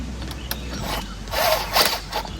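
A screw is driven into a storm door with a ratcheting, whirring tool, giving short mechanical buzzes and clicks at close range with faint background noise.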